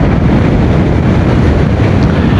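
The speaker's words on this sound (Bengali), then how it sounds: "ওরে বাবা কি বাতাস!" Strong wind roars across the microphone while riding a Honda CBR 150R motorbike near Patenga, a loud, constant buffeting rush with no voices.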